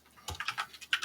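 A few quick keystrokes tap on a computer keyboard, light clicks in an uneven burst lasting about a second.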